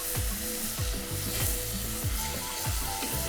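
Risotto rice with stock is stirred in a pan, producing rhythmic wet scraping strokes with a faint squeak over a continuous bubbling sizzle, close and steady.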